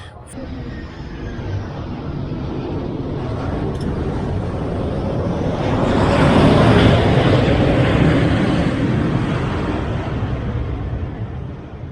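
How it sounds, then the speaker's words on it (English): An easyJet passenger jet rumbles overhead, its broad roar swelling to a loud peak midway and then slowly fading, heard outdoors with steady background noise. "It's an easy jet."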